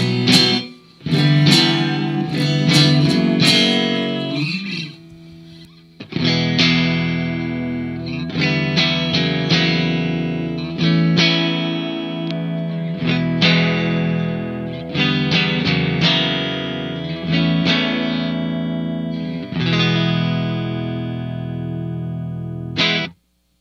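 A road-worn Fender Telecaster electric guitar played through heavy effects, distorted and shimmering with chorus-like swirl; strummed chords and riffs ring out with short pauses between phrases.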